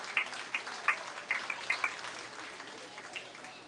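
A small, quiet audience at a swine show claps for champion market exhibitors, with a few scattered, distinct claps standing out from faint background noise.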